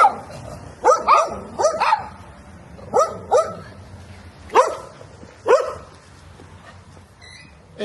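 Dogs barking in a residential street in Fernando de la Mora, Paraguay: short bursts of several sharp barks, moderately close and loud, separated by brief pauses.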